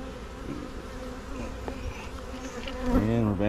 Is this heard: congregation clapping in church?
no